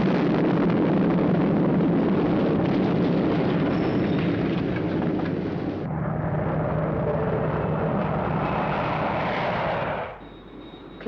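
A sustained, roaring rumble from an explosion at the Spectrum Maximum Security Building, steady and loud for about ten seconds before cutting to a quieter low hum.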